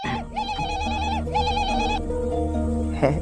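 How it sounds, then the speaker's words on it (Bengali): A mobile phone ringtone for an incoming call plays loudly and alone, a repeating electronic melody in two bursts with a brief pause between them. "শিবুদার বউ ফোন করেছে, কথা কিন্তু তুমি লাউডেই বলবা।"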